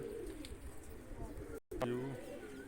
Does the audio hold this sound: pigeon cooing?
yes